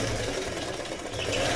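A sewing machine runs steadily while stitching embroidery practice on plain cotton cloth, giving a close, continuous mechanical whir with a fast regular rattle and no pauses.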